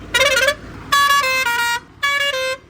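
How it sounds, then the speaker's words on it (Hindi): Three-trumpet air pressure horn fitted to a heavy truck sounding loudly up close in three long blasts separated by short gaps, its pitch stepping between the trumpets in a bright, chord-like tone. "देखो हॉर्न है इसमें, अभी बजाते हैं।"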